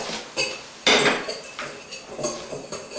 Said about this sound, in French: on va commencer par mélanger le sucre et l'amande